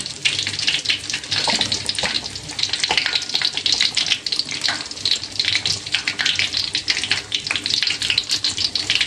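Stuffed tofu battered in flour and vegetable filling sizzles steadily in hot frying oil, a loud, continuous crackling hiss with no talking.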